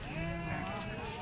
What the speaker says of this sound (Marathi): मेंढ्या बघून घ्या अगोदर.